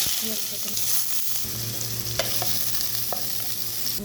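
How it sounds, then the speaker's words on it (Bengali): Onions frying in hot oil with green chili, cinnamon and bay leaf, a constant close sizzle with stirring, a couple of light clicks from the spoon and no voices. "কাঁচামরিচ, দারচিনি, তেজপাতা দিয়ে পেঁয়াজটা আমার ভাজি হয়ে গেছে।"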